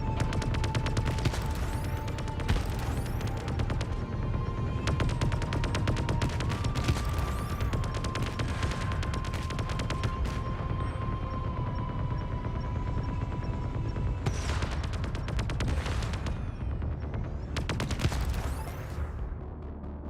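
Rapid gunfire in the space game Void Crew as a crew shoots down a field of mines, dense bursts of shots and booms repeating over a steady low engine hum for the whole stretch, loud and close.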